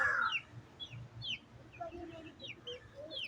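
Chickens cluck nearby in short scattered calls with higher chirping notes, fairly soft and intermittent.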